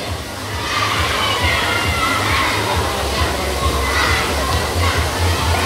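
A swimmer splashes through pool water during an 8x50 school relay, a steady wash of sloshing and churning under an echoing indoor hubbub of children's voices.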